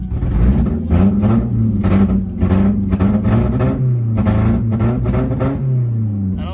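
A car engine fitted with a hood stack exhaust feeding back into the intake revs in a series of short, loud, choppy blips with rough idle between, close to the microphone.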